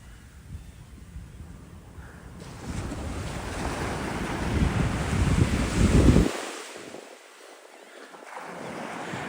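Ocean waves wash onto the beach at Coney Island, Brooklyn, on a gloomy day, a broad rushing surf that swells to a loud break midway then recedes, mixed with steady wind buffeting the microphone.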